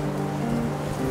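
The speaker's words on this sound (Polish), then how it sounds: "Zaraz się okaże, że jakaś fala nadchodzi i się potopimy." Ocean waves in the survival video game Raft, a steady low wash of sea and surf around a floating raft, continuous and moderately loud with a faint tonal hum beneath, no voices.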